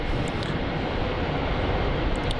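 A Cathay Pacific airliner from Hong Kong on final approach to runway 16 at Melbourne Airport, a steady broad roar that fills the whole stretch with no voices.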